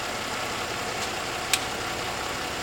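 A car engine idling steadily before being revved, a continuous even rumble with one brief sharp click partway through.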